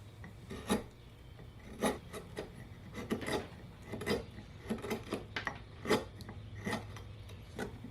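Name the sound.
sharp gouges carving a tough walnut burl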